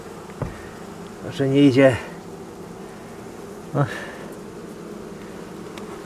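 Honey bees buzzing at an apiary hive in winter, a faint steady hum under brief close buzzes, with a person speaking briefly.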